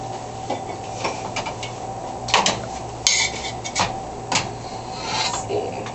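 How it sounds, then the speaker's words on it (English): Vegan soba noodle stir fry with vegetables being served from the pan onto a plate, with several close clinks and scrapes of utensils against cookware and dishware over a steady low background hum. "now I'll add a little bit to a plate"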